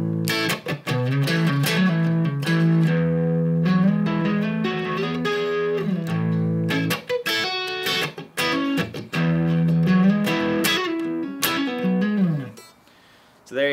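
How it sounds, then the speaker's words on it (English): A custom Nash Stratocaster-style electric guitar played through an amplifier, with full strummed chords and single-note runs ringing near and loud, briefly breaking off before a final chord fades out. "It also gets really great clean tones,"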